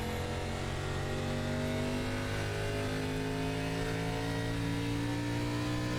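ARCA stock car engine in iRacing at Richmond Raceway, a steady loud multi-harmonic drone rising slightly in pitch as the throttle opens, continuous with no talking.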